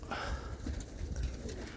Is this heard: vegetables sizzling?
no